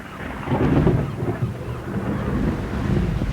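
Low, rolling thunder from an approaching electric storm at sea rumbles on continuously, swelling and fading in deep waves with wind buffeting the microphone, and no voices are heard.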